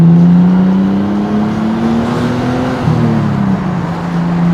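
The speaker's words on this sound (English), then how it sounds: "this is a C35 Nissan Laurel" A C35 Nissan Laurel drives along with a loud, steady engine hum and a slight pitch rise midway, with road noise underneath and no talking.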